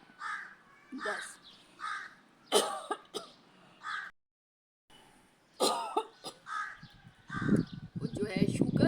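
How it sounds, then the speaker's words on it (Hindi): Several loud, close coughs and throat-clearing bursts during an exercise session in Abbottabad, in two clusters separated by a short silence, with rain-like noise building toward the end. "सॉरी वो खांसी लग गई थी।"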